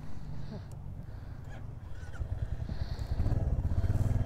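A motorcycle engine idles and revs nearby as a second bike is maneuvered out of a tight spot, its low rumble growing louder and more pulsing toward the end, with faint clatter in the background.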